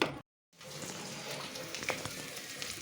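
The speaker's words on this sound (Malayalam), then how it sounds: "ഞാൻ വെള്ളപ്പയർ കറി കടുക് വറുത്ത് ഒഴിക്കുകയാണ്" Mustard seed tempering hisses as it is poured into a white bean curry, a steady close sizzle with faint crackles that runs on after a brief silent gap.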